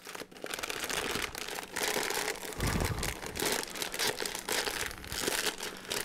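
A plastic food storage bag being folded down to press out air crinkles and crackles close up in a run of uneven rustling bursts, with a brief soft thump partway through.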